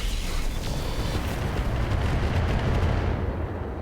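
Mech weapons unleash a sustained barrage in the RogueTech mod of BattleTech, a loud, dense roar of energy fire and rumbling impacts that holds steady for several seconds before easing slightly at the end.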